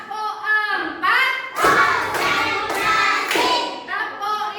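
Hands clap a classroom clapping game in rhythmic patterns, with a group of children chanting and a teacher's voice alongside.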